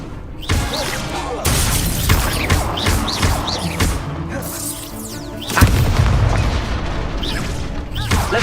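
Spell combat in Hogwarts Legacy on PS5, with the Incendio fire spell among the casts: dense, loud bursts, booms and crackling impacts that keep coming one after another, with a heavy blast about two thirds of the way through.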